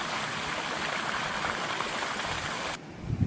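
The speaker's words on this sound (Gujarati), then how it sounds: "ત્યાં મસ્ત ધોરિયામાં જાય છે પાણી એક ગ્લાસથી" Irrigation water flowing in a farm field channel, a steady broadband rushing wash that cuts off abruptly near the end.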